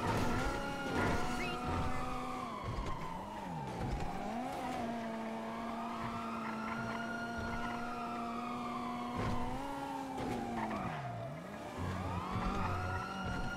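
Car engine in a video game droning steadily, its pitch sliding up and down as it accelerates and eases off, with occasional tire squeal, loud and close throughout.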